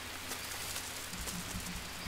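Steady rain hisses in the jungle survival game Green Hell, a dense wash of falling drops with a few soft low thumps beneath, constant and moderately quiet with no talk.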